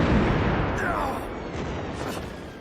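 Dense, roaring blasts and rumbling booms from explosions in an anime fill the scene, with a brief whooshing streak and crackling debris over a continuous loud wall of noise.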